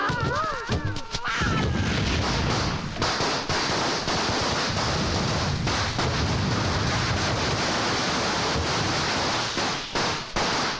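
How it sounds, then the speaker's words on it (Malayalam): Firecrackers bursting during the Vishu festival, a dense, continuous roar of loud crackling blasts and booms filling the whole stretch without letup. "എന്തിനാ ആളുകള് പടക്കം പൊട്ടിച്ചേ?"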